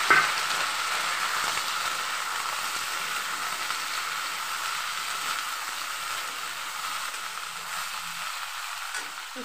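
Chillies and panch phoron sizzle in hot oil in a kadai, a steady, close crackling hiss that holds evenly and slowly fades a little, with no one talking.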